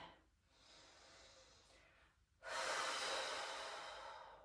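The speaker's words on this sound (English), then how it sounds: "We're going to breathe here." Deep breathing during a yoga flow: one long, soft breath, then after a brief pause a louder, fuller breath that slowly fades, close and alone.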